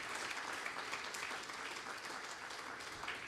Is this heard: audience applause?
yes